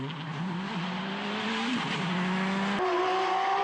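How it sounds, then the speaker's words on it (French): A Porsche GT rally car races at the East Belgian Rally, its engine droning steadily with shifting pitch and a brief gear change near the end, heard close and loud with no voices. "Voici Jochen Clarotte qui se bat toujours avec sa Porsche pour les honneurs en GT"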